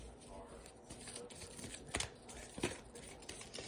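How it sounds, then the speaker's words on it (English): Tarot cards shuffled and drawn from the deck, soft riffling and sharp slaps of card on card up close, with a faint background hum. "Let me pull some more cards here."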